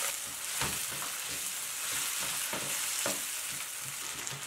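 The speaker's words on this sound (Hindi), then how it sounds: "अब इसमें ऐड करते हैं हम मटर" Frozen peas go into a pan of savoury vermicelli being made. A steady, fairly soft sizzle runs throughout, and a few stirring scrapes sound through it. No one speaks.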